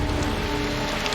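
Steady rain pours down in an even, dense hiss that fills the whole moment without pause, with no voices over it.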